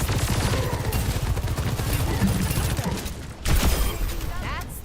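Rapid gunfire from a shooting video game crackles in continuous bursts of shots throughout, with a person talking over the shooting.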